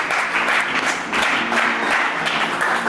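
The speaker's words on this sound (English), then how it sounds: "Please give them a big round of applause!" Loud, sustained applause and clapping from a capacity crowd at a Battlestations 5 wrestling show in Philadelphia, filling the space steadily without a break and without any voices standing out.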